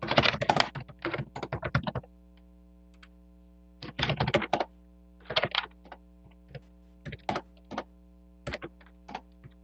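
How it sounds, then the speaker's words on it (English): Heavy, loud typing on an old computer keyboard, fast bursts of clacking keystrokes with short pauses in between, close to the microphone over a steady electrical hum at an online meeting. "Larry is typing."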